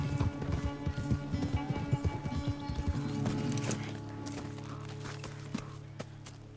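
Horses gallop in a race in Red Dead Redemption 2, one horse large and one small. Rapid hoofbeats pound close and loud, with occasional whinnies, then thin into softer, steadier clopping over a low background hum.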